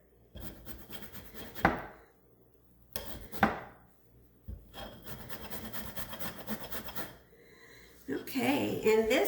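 Lemon peel is scraped across a kitchen zester in a few short, raspy strokes, fairly close but quiet, with soft handling noises between them and a louder clatter at the end.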